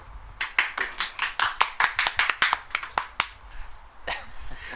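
A burst of hand clapping from a small group, quick uneven claps close by that fade into scattered applause near the end.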